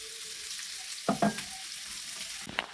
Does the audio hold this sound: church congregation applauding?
no